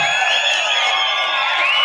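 A large crowd cheers and shouts together at an outdoor kabaddi match held for a former chief minister's birthday, a dense, steady roar of voices with no clear breaks.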